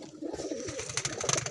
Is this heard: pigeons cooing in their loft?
yes